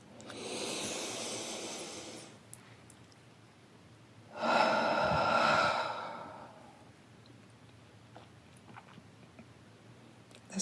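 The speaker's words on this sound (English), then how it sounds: "just take a breath with me" Two deep breaths are drawn slowly and audibly close to the microphone during a guided breathing exercise, each a long airy rush separated by a quiet pause.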